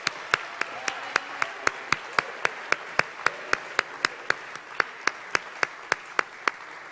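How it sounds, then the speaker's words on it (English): At a naval academy awards ceremony, slow, evenly spaced clapping rings out, crisp individual claps from a few hands in a steady rhythm about three per second, over a quiet room. "Round of applause for the mechanical engineering distinguished graduates."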